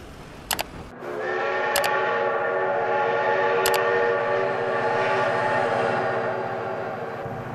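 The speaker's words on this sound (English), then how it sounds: "Oh my God, train!" A train approaches in the BeamNG.Drive driving game: short horn blasts near the start, then a loud, sustained rumble of rail wagons rolling past, steady and close throughout.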